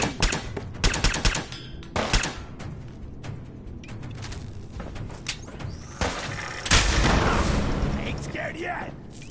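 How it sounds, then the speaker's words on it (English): Bursts of automatic gunfire and single sharp shots in the video game Fallout 4, with rapid volleys early, scattered reports and a heavier boom later, while a character's voice shouts over the action. "Ain't my first gunfire, monkey!"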